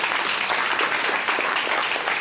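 A continuous round of applause from a seated audience after a tech talk, dense and steady throughout, with no voices over it.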